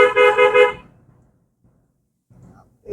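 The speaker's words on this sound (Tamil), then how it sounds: "ஹாரன் இன்னொரு முறை" A car horn sounds in a short pulsing burst of three quick, close honks during a beginner driving lesson, followed by near silence and a faint voice at the end.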